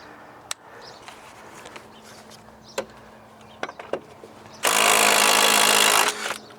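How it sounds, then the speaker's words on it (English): After a few scattered metallic clicks and clanks, an impact wrench on a Ford C-Max rear shock bolt rattles in one loud, sustained burst of about a second and a half that then cuts off. "I'm going to use the impact and loosen the shock bolt at the bottom"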